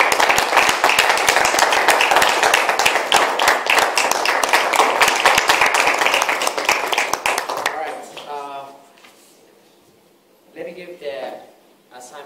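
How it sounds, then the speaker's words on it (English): An audience at a Toastmasters club meeting claps briskly for about eight seconds, a fairly loud burst of many hands that fades out before voices begin talking. "I would like to give them your warmest applause as they go back to their chairs."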